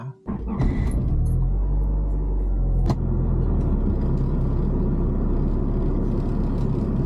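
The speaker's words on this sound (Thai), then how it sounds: "ก็เราจะเดินทางไปด้วยรถยนต์นะครับ" Car driving along a road heard from inside, a steady low engine rumble with road and tyre noise that holds constant throughout after a brief bump at the start.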